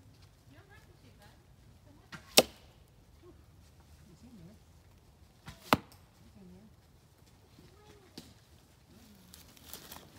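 Arrows loosed from a traditional bow strike an outdoor target with two sharp, distinct impacts a few seconds apart, while people talk quietly in the background.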